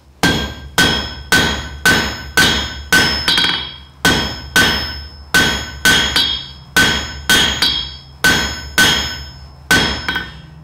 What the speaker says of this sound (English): But there's the first hammering.